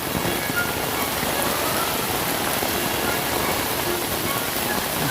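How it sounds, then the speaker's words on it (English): Heavy tropical-storm rain pours down steadily over a garden, a dense, loud, continuous hiss of drops striking surfaces with no gaps and no voices. "Getting plenty of rain today."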